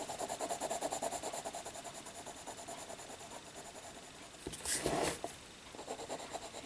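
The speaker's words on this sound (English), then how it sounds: "I'm just letting my pen slide over" A pen glides lightly over paper while colouring in a small area, giving a faint, steady scratchy rasp of repeated short strokes, close up and quiet, with one brief louder rub partway through and no voices.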